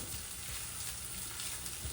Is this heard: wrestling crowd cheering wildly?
no